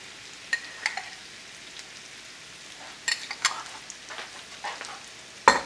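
Soft, steady sizzle of potatoes frying in oil, close by, with scattered pops and crackles and a few clinks of a utensil.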